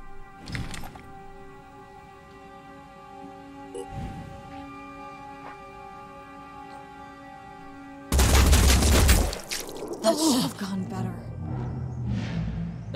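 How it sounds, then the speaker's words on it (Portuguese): Gunfire in the tactical video game Phoenix Point, heard as a loud, sudden fusillade of shots and booms after a quieter stretch of game sounds and tones. "Vou vir para cá e vou meter tiro nos caras."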